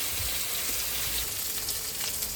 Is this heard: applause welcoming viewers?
no